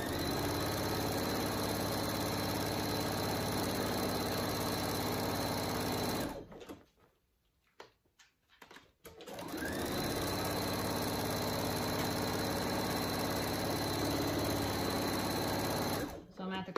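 A sewing machine top-stitches around the curved front of a fabric hanging bag, running loud and steady for about six seconds, pausing near silence for several seconds, then resuming its even whir before briefly stopping again.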